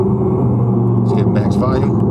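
Car cruising on a highway, heard from inside as a steady, loud low road-and-engine rumble, with brief voices over it midway.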